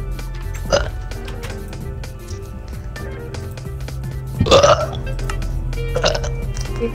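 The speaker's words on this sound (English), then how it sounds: "what the heck keeps on burping?" Repeated burps, a few short guttural bursts spread over several seconds, sound close and fairly loud above a steady background hum.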